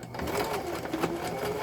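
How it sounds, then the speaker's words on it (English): A home sewing machine running a narrow zigzag stitch hums and whirs steadily up close, its needle thumping in a quick regular rhythm, with a slightly strained, uneven motor tone. "I think my sewing machine is a little bit cranky"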